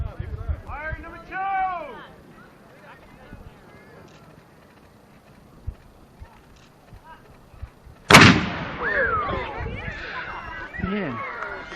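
A black powder cannon fires once with a sharp, loud boom followed by a rumbling tail, while people chatter nearby before and after the blast.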